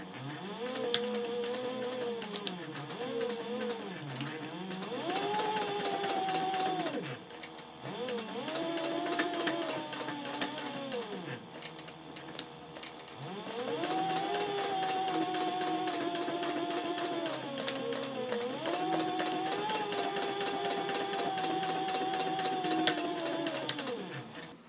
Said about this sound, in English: Now I'm sewing the lining to the pocket front